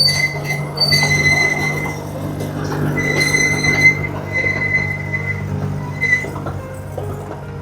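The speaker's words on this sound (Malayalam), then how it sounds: "നമ്മുടെ ടോയ് ട്രെയിൻ അതുവഴി വരുന്നുണ്ട്." A toy train runs on rails in Mysore, giving a steady low rumble with metallic clinks and squealing tones scattered across the passage, heard alone without talk.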